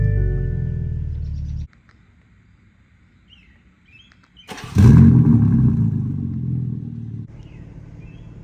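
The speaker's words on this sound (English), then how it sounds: "here is the startup on the M3 Competition." A BMW G80 M3 Competition starts up: a low idle cuts out, then the starter catches and the engine flares loudly before settling into a steady idle, with birds chirping faintly in the background.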